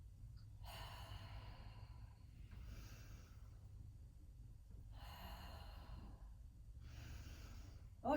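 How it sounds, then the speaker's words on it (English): Several people breathe in unison during a seated chair yoga session, with four slow, airy breaths spaced about two seconds apart, each a soft hissing inhale or exhale over a low steady room hum. "it's nice to hear the breathing"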